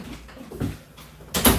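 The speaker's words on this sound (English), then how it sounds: "So I'm just going to open the door right here and let's go out there" A house door opens to let a dog outside: a couple of soft handle and latch knocks, then a louder clunk and swing of the door near the end, close by with no speech.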